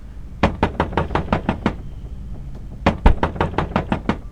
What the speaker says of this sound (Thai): เสียงเคาะเสียงเคาะเสียงเคาะ